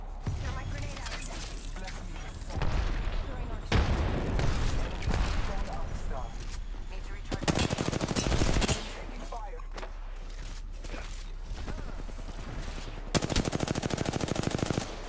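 Gunfire in the video game Apex Legends: rapid automatic bursts crackle in several loud volleys separated by quieter stretches, with a player talking over the shooting.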